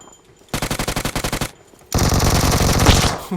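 Automatic gunfire in the video game PUBG Mobile: a rapid burst of evenly spaced shots, a short pause, then a longer, louder continuous burst, close and dominant.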